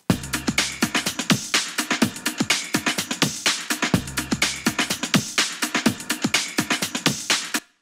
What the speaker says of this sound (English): Now I've got this as the main breakbeat.